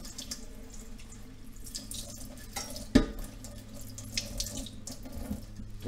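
A knife blade of layered steel rinsed under a running kitchen tap, a steady close rush of water splashing into the sink with a brief louder splash partway through.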